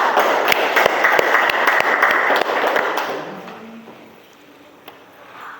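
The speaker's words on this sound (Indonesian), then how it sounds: "beri tepuk tangan dulu dengan Abdal." Classroom applause for a student after a science lesson on heat and temperature, a burst of many hands clapping for about three seconds that fades into quiet room tone.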